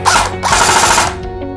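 A 3D-printed airsoft gun with an AEG gearbox fires on full auto, a fast, dense buzzing burst of shots lasting about a second, close and fairly loud.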